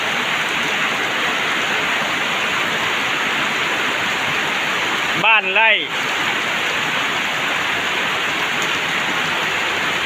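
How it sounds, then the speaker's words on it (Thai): Steady, heavy rain pours down on a farmhouse in a continuous hiss, close and loud, with a brief spoken phrase partway through. "บรรยากาศฝนตกอากาศดีมากนี่บ้านสวน"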